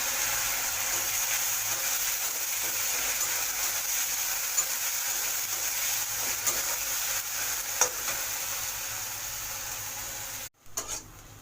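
Ginger, garlic and tomato paste sizzles steadily in a hot pan of oil, a constant loud frying hiss with faint stirring scrapes, then cuts off briefly near the end.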